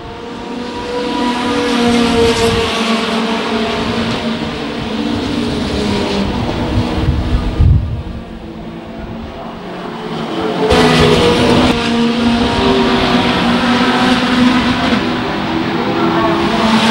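Race cars at Silverstone sliding sideways round a corner in a BARC club race, engines roaring loudly and steadily with revving, a car passing, and a brief dip in the middle, while a commentator talks over it.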